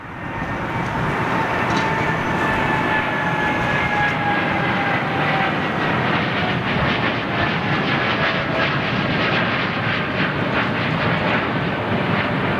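An airliner takes off at London Heathrow Airport on a derated thrust setting, its jet engines producing a loud, steady roar with a faint rising whine, sustained and unbroken throughout.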